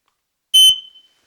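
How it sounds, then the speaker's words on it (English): A smoke detector alarm sounds at full volume in a single short, piercing electronic beep that cuts off quickly and leaves a brief ringing tail. "to the point where you can play the smoke detector at full volume"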